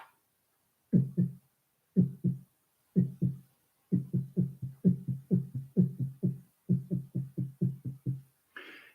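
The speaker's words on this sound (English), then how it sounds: "It's our heartbeat." A human heartbeat thumps in low, paired beats, starting slow and evenly spaced, then quickening into a faster steady rhythm, loud and close with no talk.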